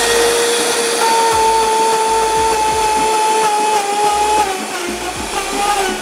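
A blender switched straight to turbo speed while making pop ice drinks, a loud, close motor whine with a sustained rising tonal hum that holds steady and dips slightly near the end.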